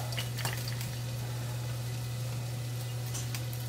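Butter and olive oil sizzle in a pan as a steady, quiet crackle with faint scattered pops, under a constant low electrical hum.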